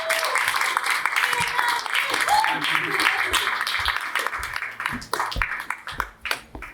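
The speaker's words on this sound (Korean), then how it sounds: "큰 박수로 맞이하여 주시기 바랍니다" An audience at a business seminar claps to welcome a speaker to the stage, a sustained round of applause that thins into scattered claps toward the end, with voices talking over it.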